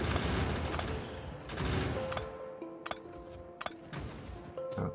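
Turret gunfire in the video game Factorio, rapid fusillades of synthetic shots followed by sharp ringing pings and scattered impacts, fairly loud and continuous in bursts.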